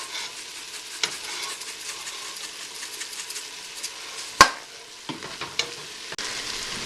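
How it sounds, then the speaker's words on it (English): Onions sauté in a pan for marinara sauce, a soft, steady sizzle close by with scattered light stirring taps and one sharp knock midway, no one talking. "now that my onions are getting translucent and perfect, I'm going to turn the temperature down to medium heat"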